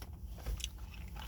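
A bite into a crunchy breaded KFC chicken wing: one short close crunch, then quiet chewing, with no talking.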